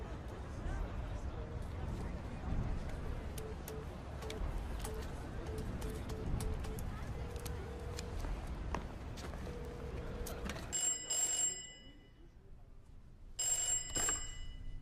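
A telephone rings with short bursts of electronic bell tone near the end, after a stretch of busy rustling and background noise with a repeating tone, fairly quiet overall.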